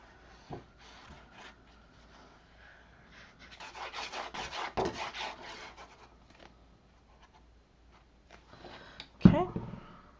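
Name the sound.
burnishing paper down on a Halloween mini album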